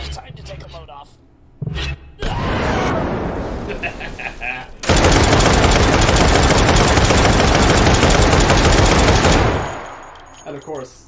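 Dense, loud burst of one-handed gunfire in the VR shooter Hot Dogs, Horseshoes & Hand Grenades, running continuously for several seconds after scattered clatter and handling noises, then cutting off abruptly.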